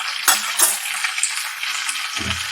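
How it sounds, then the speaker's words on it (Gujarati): Curry leaves and a pinch of asafoetida drop into hot oil with spluttering mustard and cumin seeds, giving a close, bright sizzle with a few sharp pops and crackles over a steady frying hiss. "રાઈને જીરું તતળી જાય પછી એમાં આપણે લીમડાના પાન અને થોડીક હિંગ નાખી"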